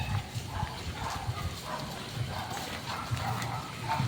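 A carabao (water buffalo) walks along a cornfield path in Sariaya, its hooves clopping in a soft, uneven rhythm close by over steady outdoor background noise.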